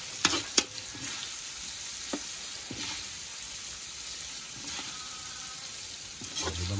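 Chicharong bulaklak sizzles and crackles in hot oil, a steady frying hiss with occasional sharp pops, fairly close.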